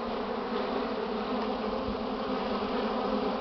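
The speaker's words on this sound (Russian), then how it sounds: "Вон с обножкой пчелка." Honeybees hum around a hive entrance on a warm spring day as a forager returns carrying a load of yellow pollen. A steady, near, continuous buzz holds throughout, with no speech.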